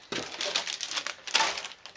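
Plastic bags of parts from a Tamiya Volkswagen Karmann Ghia model kit rustling and crinkling, close and fairly loud in two bursts of handling, with no talk.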